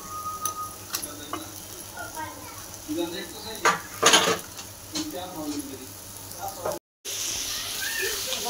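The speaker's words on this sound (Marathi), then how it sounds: "आता आपण कांदा भाजून घेऊ." Sliced onions roast in a pan for a village-style chicken curry, stirred with irregular scraping strokes over a soft, low sizzle, with a brief cut-out near the end.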